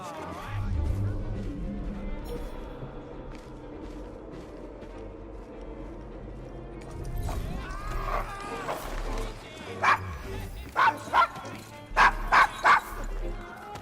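A dog in Assassin's Creed Syndicate, on a rough Victorian London street, barks in a run of sharp yips and whimpers near the end, following a stretch of talk and low background ambience.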